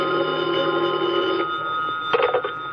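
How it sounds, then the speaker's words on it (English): An old-style lobby telephone bell rings continuously with a steady electric trill, fairly loud and close, ending with a short clatter. "the phone in the lobby started ringing"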